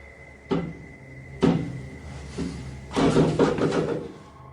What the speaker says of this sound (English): he hears regular banging noises in the hallway